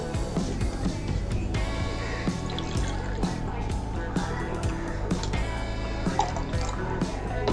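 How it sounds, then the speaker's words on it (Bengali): Water poured into a pan for making sugar syrup for bonde, a steady splashing fill with dripping and trickling, close and continuous throughout. "জল দিলাম এক কাপ"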